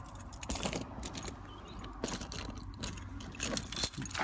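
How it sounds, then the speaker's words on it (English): A set of keys for a 2004 Citroen Romahome Hylo diesel camper jangles in short metallic bursts, close and fairly quiet, with no talking. "We've got 3 sets of keys."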